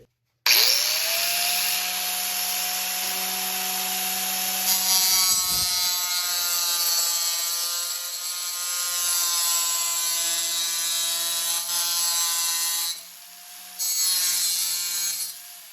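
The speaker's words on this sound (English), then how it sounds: "that's for cutting the vinyl planks" Vinyl floor planks being cut with a hand tool, a close, continuous grinding rasp with shifting tonal whine, one sharp snap midway and a brief pause near the end, no talk.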